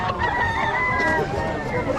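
A rooster crows at a busy chicken market in Lemery, Batangas, its sustained call drawn out over a steady bed of crowd murmur and scattered voices.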